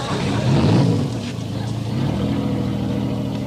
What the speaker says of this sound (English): Mr. Tinker, Bell, start your engine